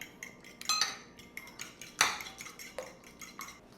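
Whisk or fork clinking steadily against a bowl while eggs and milk are beaten together for onion patties, close and fairly quiet, with irregular metallic taps and one sharper clank midway.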